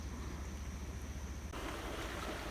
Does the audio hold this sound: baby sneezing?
no